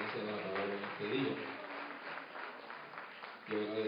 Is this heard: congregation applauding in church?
yes